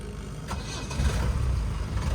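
A jeep engine turns over and catches, then settles into a rough low rumble up close, with a light click near the start.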